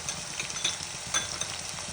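Bottle gourd sabzi fries in a pan with a steady, dense sizzle and faint crackles throughout, an even close-up hiss with no voices.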